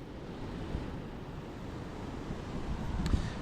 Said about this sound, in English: the wind's a bit more settled here